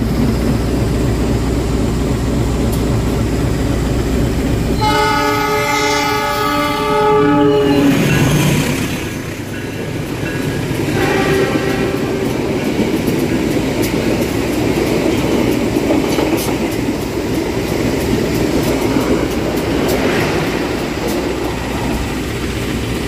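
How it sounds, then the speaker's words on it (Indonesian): Gajayana passenger train from Malang to Jakarta Gambir running straight through Ngebruk station without stopping, loud and close, with a sustained horn blast early on and a steady roar of wheels and cars rolling past throughout. "Kereta api Gajayana saat ini sudah melintas langsung stasiun Ngebruk."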